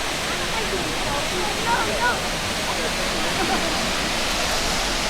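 Multnomah Falls in Corbett, Oregon pours a steady, broadband roar of falling water and heavy spray, a constant close wash of noise with no pauses.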